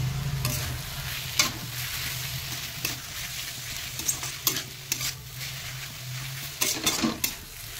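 Shushni and red amaranth greens frying in a pan with coriander, poppy seed, sugar and cumin, a steady close sizzle broken by repeated scraping stirs and light clinks of the utensil against the pan.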